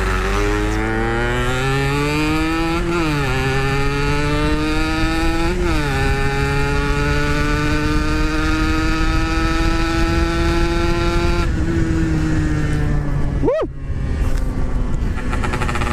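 A Yamaha RX King two-stroke motorcycle on the road, engine droning loud and close as the revs climb steadily, with a couple of brief throttle dips and a sharp drop near the end, no voices over it.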